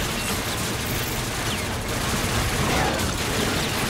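Dense, continuous gunfire from the video game Call of Duty Infinite Warfare, with overlapping shots forming a loud, steady barrage throughout and no clear talk.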